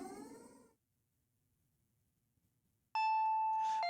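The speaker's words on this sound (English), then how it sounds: "The doorbell rang again." In the game Higurashi When They Cry Hou, after a meow-like cry and a quiet pause, a loud electronic doorbell chimes with a clear sustained tone, then shifts pitch.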